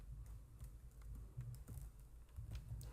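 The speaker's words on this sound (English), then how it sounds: "I'm just typing the data of first row" Quiet, close keystrokes on a computer keyboard as data is entered into a table row, an uneven string of soft taps over a low steady hum.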